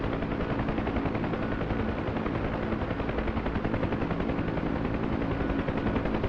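Helicopter guns firing in the video game Combat Search and Rescue, a dense, continuous rattle of rapid shots blended with the steady roar of rotor and engine, loud and unbroken throughout.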